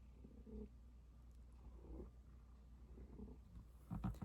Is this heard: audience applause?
no